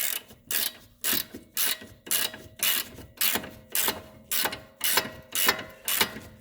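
A thread-cutting tool works down a stabilizer end-link stud to the nut face on a 2009 Subaru Forester, giving a steady ratcheting rhythm of about two strokes per second, close and alone.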